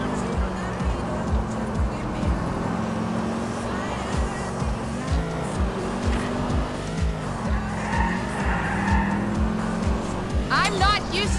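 A car races through city streets in GTA IV, engine roaring with rhythmic thumps and bursts of tire squeal, a squealing skid near the end, while characters talk and a GPS voice speaks over the driving.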